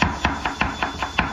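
A knife chops potatoes into thin shreds on a cutting board in quick, even, close knocks, about seven in just over a second, with no voices.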